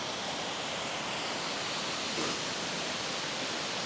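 A waterfall flows steadily over a fog-covered valley, a dense, even rush of falling water that stays unchanged throughout, with no voices.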